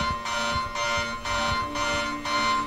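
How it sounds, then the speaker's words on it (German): An alarm system going off in the video game Anthology of Fear, sounding in steady repeated half-second electronic bursts with short gaps, loud and continuous with no voices. "Verdammte Alarmanlage."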